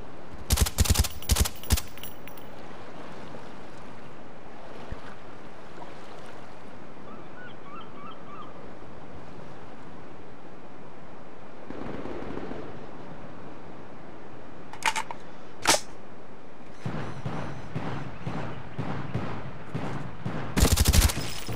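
A silenced AK-74u fires in Call of Duty: Black Ops, with quick bursts at the start, a few isolated shots in the middle, and a longer run of rapid fire near the end over quiet game ambience.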